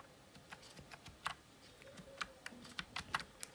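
Typing on a computer keyboard while entering data into an Excel spreadsheet, a quiet run of irregular key clicks with brief pauses and a few louder taps, no talking.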